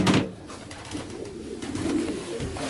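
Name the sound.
pigeon cooing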